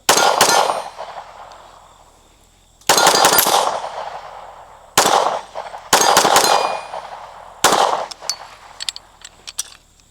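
A CZ P-10C ported pistol fires at an outdoor range: loud, sharp reports in several spaced volleys, each ringing off briefly, with a final quick string of shots.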